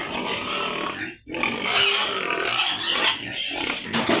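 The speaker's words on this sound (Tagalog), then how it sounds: "Magpapakain lang tayo ng baboy." Pigs in a farm pen at feeding time, grunting and snorting close by in a steady, busy jumble of calls with no talk over them.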